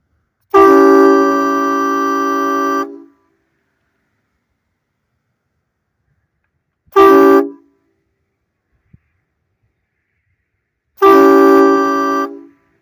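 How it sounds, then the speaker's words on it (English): A Hornblasters Flatlaw train air horn blasts loudly three times: a long two-second honk, a short burst, then another longer honk, with silence in between. "we got the air horn hooked up and we're gonna do it."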